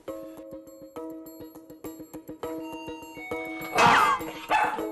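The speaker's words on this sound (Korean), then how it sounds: "벨이 울리자 자동적으로 짖는 보리" A doorbell chime rings with steady tonal pulses, followed by a burst of close, loud dog barking near the end.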